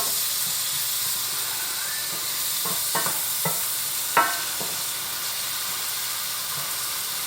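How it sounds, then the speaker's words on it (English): Spanish tapas with paprika frying in a pan, a steady close sizzle and hiss with a few light scrapes and taps of stirring. "Okay, and we're going to let that cook another minute."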